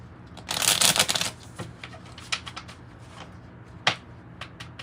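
Tarot and oracle card deck being shuffled up close, a loud riffling burst followed by scattered lighter card taps and slides, with no talking.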